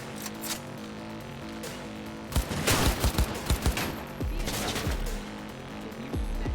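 Rapid bursts of gunfire in the video game Cyberpunk, loud and close, with a dense run of several shots in the middle over steady game sound and no talking.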